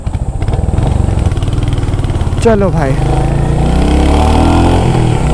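A Royal Enfield Hunter 350 motorcycle engine runs close by with a steady, throbbing drone, while someone talks over it.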